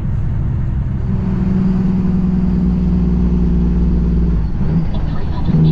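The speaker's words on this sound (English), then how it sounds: "Truck feels so powerful when you're pulling an empty trailer." A heavy truck engine drones steadily while hauling an empty trailer on the road, a close, constant low rumble with a slight rise in revs near the end.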